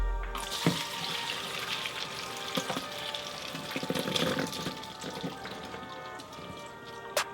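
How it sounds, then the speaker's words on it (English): Liquid poured out of a can of hominy being strained for red pork pozole, a steady splashing trickle with a few sharper drips, close and continuous. "make sure you strain the can first"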